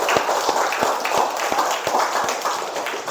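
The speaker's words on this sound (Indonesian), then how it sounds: "kita beri tepuk tangan dulu" A high school biology classroom gives applause after a group presentation: scattered, fairly sparse hand claps with distinct individual slaps standing out over a roomy background murmur, moderately loud and continuous.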